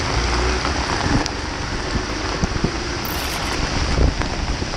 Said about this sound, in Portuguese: Vamos na chuva mesmo.